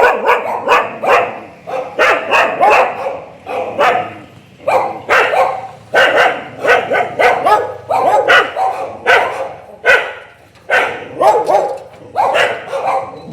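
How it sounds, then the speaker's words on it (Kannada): Several dogs behind a locked door bark repeatedly and loudly at close range, bursts of overlapping barks and yips coming in quick irregular volleys. "ಇಲ್ಲಿ ನೋಡಿ ತೋರಿಸ್ತೀನಿ ಯಾವ ಥರ ಇದೆ ನಾಯಿಗಳು"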